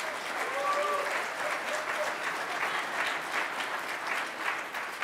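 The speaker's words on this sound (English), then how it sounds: "I hope you're clapping for yourselves." A conference audience at a veterans' forum claps steadily and loudly for about five seconds, a dense wash of hands with a few faint voices rising briefly underneath.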